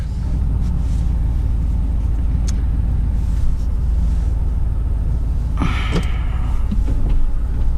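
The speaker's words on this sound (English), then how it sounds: "Okay, here comes another Bronco." A Ford Bronco drives past, one of several vehicles crossing water, its engine rumbling steadily over a constant outdoor drone, with a brief splashing surge near the end as it passes close.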